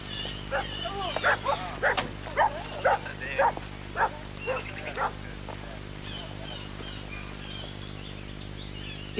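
Several dogs guarding a house at the end of a narrow lane in the Cairngorm foothills bark in a series of sharp, moderately distant yaps over the first five seconds, then fall quiet against steady background hum.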